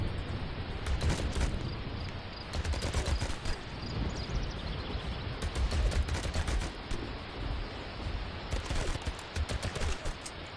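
Rapid bursts of gunfire from the rainy battle in the video game Home Behind 2, dense and repeated volleys layered with crackling impacts throughout, loud and continuous with brief clusters of sharper shots.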